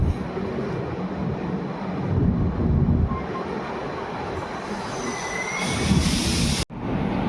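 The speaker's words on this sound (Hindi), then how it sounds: "तो इसी के साथ ही विशाखापट्टनम एक्सप्रेस डिपार्चर ले रही है बारां रेलवे स्टेशन से" The Vishakhapatnam Express rolls out of Baran railway station with a steady rumble of wheels and carriages, metallic squeals rising near the end before a sudden cut.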